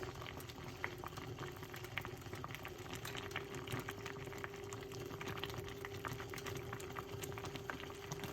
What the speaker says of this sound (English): You guys can see it's boiling really good.